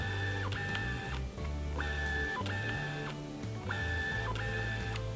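A Canon EF 50mm f/1.8 STM lens's focus-by-wire autofocus motor gives repeated whirring, whining bursts with a faint mechanical chatter, cycling steadily at close range with no talking.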